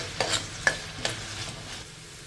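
Cut vegetable pieces frying in a pan over medium to high flame, a soft continuous sizzle broken by a few sharp scraping stirs of a spatula close by.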